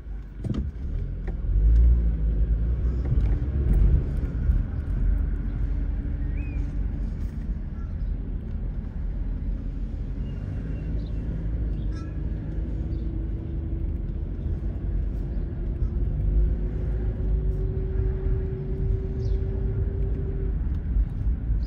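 Car rolling slowly down a residential street in Paterson, its low engine rumble steady and close from inside the cabin, with a gentle rising whine as it eases forward.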